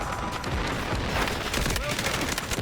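Heavy gunfire and booms in the shooter Delta Force, continuous dense bursts close by, with someone talking over the battle noise.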